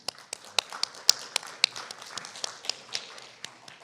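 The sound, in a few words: audience applause for the speaker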